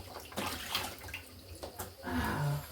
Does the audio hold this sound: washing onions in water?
yes